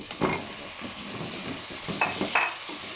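Steady sizzling as chicken goes into a hot pan of light-browned onions, with a few louder bursts of frying and stirring scrapes; no voices.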